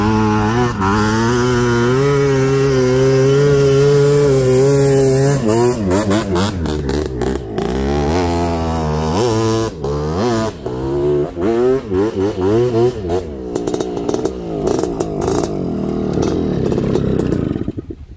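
A Yamaha TRI-Z 250 three-wheeler rides across sand dunes, its engine close and loud, rising and falling in pitch as the throttle opens and eases off without a break.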